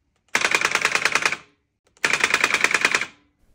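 A recoil solenoid inside a homemade pulse rifle lightgun fires two loud rapid bursts, each a fast mechanical rattle lasting about a second, with a short silence between them.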